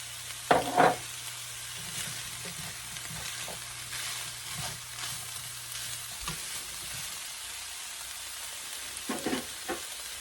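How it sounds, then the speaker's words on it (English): Ground beef and zucchini sauté in a skillet with a steady soft sizzle, broken by a few louder scraping stirs near the start and end; no talking. "I'm going to saute this a little bit."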